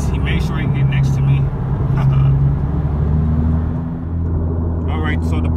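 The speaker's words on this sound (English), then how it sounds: "He pulls up right next to me. The Porsche Panamera." A Porsche Panamera pulls up alongside a parked car, its steady low engine rumble and tire noise close by, while a person talks over it.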